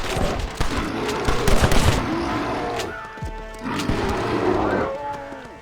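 Gunshots ring out in Red Dead Redemption as a bear attacks, with sharp cracks and clattering impacts mixed into a chaotic scuffle, while excited voices shout over the action.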